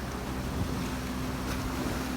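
A continuous roar of wind and sea, with large waves washing in the background during traditional fishing, under a low steady engine-like hum.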